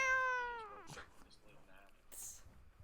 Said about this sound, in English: Is Milo meowing?